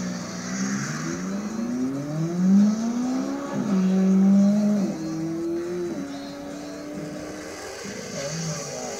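A McLaren P1 sports car passes outdoors, its engine note rising and falling through gear changes over several seconds, moderately loud against street background.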